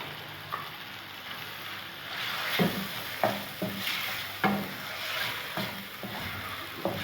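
Chicken pieces frying in oil with garlic ginger paste: a steady hiss of sizzling with repeated scraping and stirring strokes from a spoon in the pan, close up and fairly quiet.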